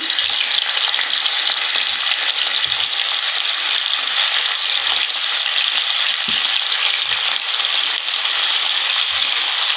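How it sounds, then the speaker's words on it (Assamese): Paneer pieces fry in hot oil in a pan, giving a loud, constant hissing sizzle with occasional soft stirring or scraping bumps underneath. "তেলখিনি গৰম হৈ গৈছে গতিকে ইয়াতে মই এতিয়া পনীৰ কেইপিচ দি দিম"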